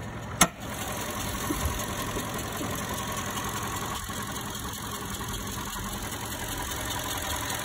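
A 2020 Toyota Camry SE four-cylinder engine runs steadily at idle, a close, even hum after a brief sharp knock at the start.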